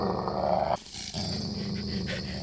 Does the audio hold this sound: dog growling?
yes